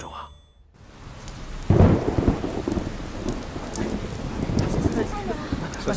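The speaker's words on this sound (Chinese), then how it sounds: "下雨了。" Heavy rain pours down on a night street while thunder rolls in with a sudden loud crack after a moment of near silence, then the downpour keeps hissing steadily with faint rumbles underneath.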